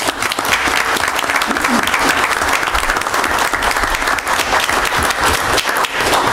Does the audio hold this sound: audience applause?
yes